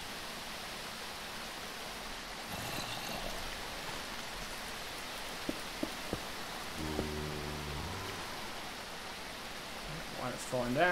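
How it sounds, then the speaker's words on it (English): Steady broadband rush of falling water in the video game SH: Dalania, a continuous rain-like hiss filling the scene, with a few brief tonal blips and low hums from the game cutting in over it. "Water is falling down."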